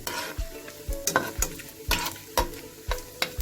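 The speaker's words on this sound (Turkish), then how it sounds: "yağlarımız erimeye başladı. Biraz daha eriyecekler." Fat melts in a pan for kavurma with a steady sizzle and frying crackle. A utensil stirs and scrapes it at a regular rhythm of about two strokes per second, close and clear with no talking.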